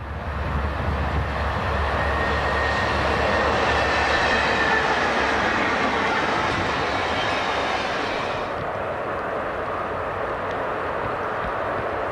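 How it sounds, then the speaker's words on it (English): A Santa Fe F3 diesel locomotive leads the San Francisco Chief passenger train through a sweeping curve near Glen Fraser siding, a loud, steady rumble and rail roar that stays close throughout, easing slightly toward the end. "An F3 leads San Francisco Chief Train Number 2 through the sweeping curve east of Glen Fraser siding"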